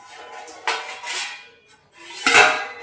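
Plates and dishes handled at home around mealtime give two distinct close clattering bursts of ceramic and cutlery, separated by a brief quiet pause, with no talking.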